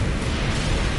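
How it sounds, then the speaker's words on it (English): A missile explosion in a video game roars as a loud, sustained broadband blast filling the whole moment without pause. "Enemy missile inbound."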